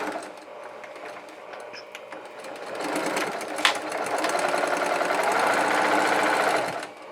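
A sewing machine stitches a fabric mask, first in a lighter run, then a steadier, louder stretch of rapid mechanical whirring and needle chatter lasting several seconds.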